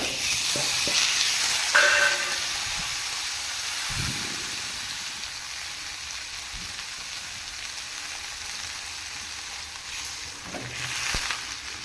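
Butter melting over a high flame in a pan while homemade ghee is being prepared, giving a steady, fairly loud sizzling hiss with a few brief clinks and stirring sounds, and no voices.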